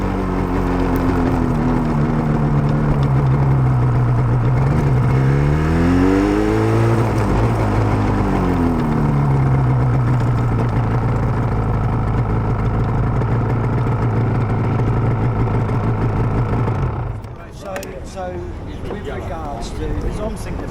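Yamaha RD350 two-stroke motorcycle engine on a victory lap in London, a loud steady drone with rising and falling rev sweeps for about seventeen seconds, then easing off as the pitch drops.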